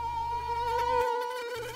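Mosquito in flight, a steady high-pitched whine with rich harmonics, close and continuous, holding level with slight pitch wavering throughout.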